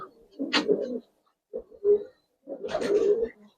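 Gribaz coloring pigeons in a loft give close, throaty coos in three separate bursts with short silences between them, clear and fairly loud.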